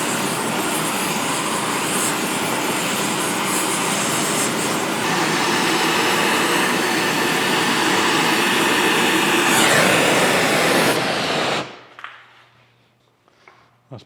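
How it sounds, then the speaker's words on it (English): A torch heating a cast iron casting on a Chattanooga No. 14 cane mill being taken apart for restoration gives a loud, steady broadband roar for about eleven seconds, then cuts off abruptly, leaving faint quiet noises. "We'll just gently add some heat in here and warm up this casting and see if it'll break on loose."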